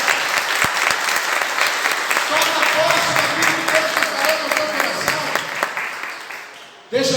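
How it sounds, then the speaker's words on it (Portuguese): A church congregation applauds loudly during a sermon, sustained dense clapping with voices calling out beneath it, fading near the end before a sudden loud sound cuts in. "Então aplauda o nome de Jesus"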